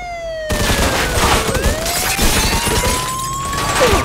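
Gunfire during a police shootout in the crime game Mafia 2, a loud rapid volley of shots and cracks layered over a wailing siren whose pitch slides up and down.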